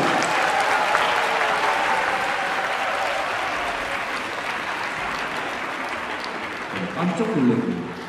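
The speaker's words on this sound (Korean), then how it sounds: "박수 많이 주세요." Sustained applause fills a hall as an audience welcomes the conductor of a youth orchestra, steady throughout with voices talking over it and a brief swell near the end.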